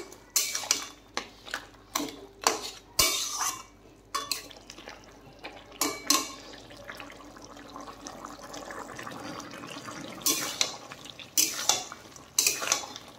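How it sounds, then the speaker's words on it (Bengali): A spoon repeatedly knocks and scrapes inside a pot of fish head curry with potato and pumpkin while the fish head is broken up, giving irregular metallic clinks over a soft bubbling background. "নেড়ে চেড়ে দেখেন মাথাটা একটু ভেঙেও দিচ্ছি।"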